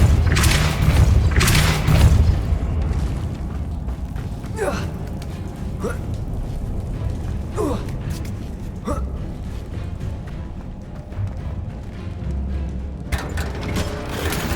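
A Depulso spell is cast in the game Hogwarts Legacy, giving a deep booming blast at the start, followed by scattered thuds and mechanical clanks over a constant low rumble of game ambience.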